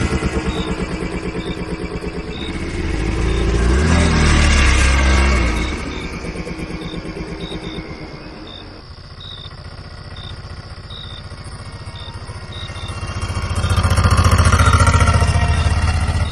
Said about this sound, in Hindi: ऑटो में बैठते ही राजू भाई ने चुपचाप इंजन स्टार्ट किया और बिना ज्यादा कुछ बोले हम वहां से निकल पड़े।